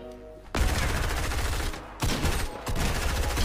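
Gunfire in a battle royale video game, heavy bursts of shots blasting loud and continuous after a brief quiet start, with two short pauses between volleys.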